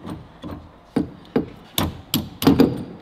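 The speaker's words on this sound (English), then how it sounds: "You are very good with your little hammer." A small hammer taps drive shafts into the standard hub of a BMW E36 fitted with 320D shafts, giving about eight close, sharp metallic knocks in an uneven rhythm, each ringing briefly.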